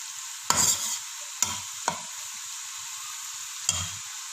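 Minced meat (keema) sizzles in a pan under a steady low hiss, while four sharp scrapes of a spoon stir it at irregular intervals.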